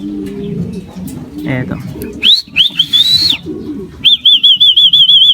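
A racing pigeon returns to the loft during a derby training lap, with soft cooing and fluttering near the clock-in point, then bright repeated whistle-like chirps; someone speaks briefly nearby.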